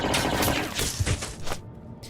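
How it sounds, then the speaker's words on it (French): Rapid bursts of blaster-style gunfire ring out in a Star Wars audiobook, loud and close, a dense crackling volley over about two seconds with no voices. "À peine se remet-il que des tirs en rafale le ciblent"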